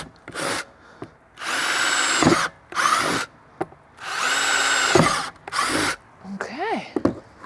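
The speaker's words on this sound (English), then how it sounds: "Let me just drill a hole here." A power drill whirs in several bursts, two longer runs among shorter ones, close by, drilling a hole in a plant pot, with a brief squeak of material near the end.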